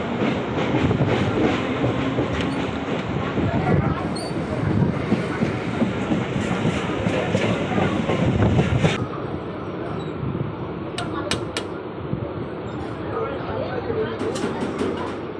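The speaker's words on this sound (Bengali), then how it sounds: "তো ছেড়ে দিল আমাদের ট্রেন।" Moving passenger train departing Joynagar Majilpur station in South 24 Parganas, a loud continuous rumble and rhythmic clatter of wheels inside the carriage, quieting slightly partway through, with voices talking over it.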